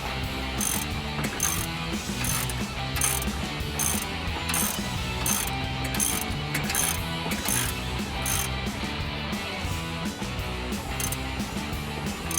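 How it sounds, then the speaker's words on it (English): Torque wrench ratcheting steadily on a Jeep Wrangler JL front track bar bolt, a continuous run of close mechanical clicks with no talk over it. "Bottom this up. And then we'll torque it to 125 foot-pounds."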